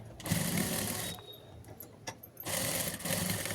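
A sewing machine stitches bedsheet fabric into a seat mat in bursts, a close whirring run that stops briefly in the middle and then starts again.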